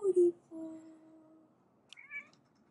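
A cat meows several times up close, first a low drawn-out call and then a higher, shorter mew, with a brief human voice in between.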